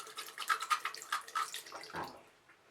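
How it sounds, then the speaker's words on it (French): A makeup brush is rinsed under running water in a sink, giving quiet, uneven splashing and bursts of gurgling that trail off near the end. "Je voudrais bien le rincer quand même."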